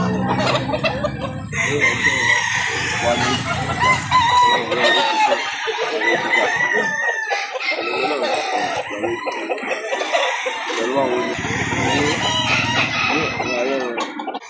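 Chickens and roosters at a poultry market in Lipa City, Batangas, crowing and clucking continuously and loudly from close by while people talk throughout.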